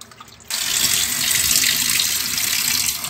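A kitchen tap turns on after a short quiet moment and runs steadily as fish is rinsed beneath it, a close, continuous rushing splash with no talking.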